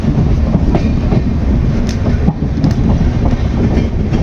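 An electric train pulls out of Abhayapuri station in Assam on a double electrified line, its loud, close rumble and steady clickety-clack of wheels filling the whole stretch without pause.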